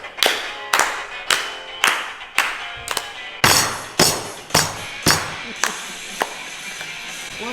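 A group claps hands in a steady rhythm during a care home activity session, each sharp clap ringing out clearly, with some faint talk underneath.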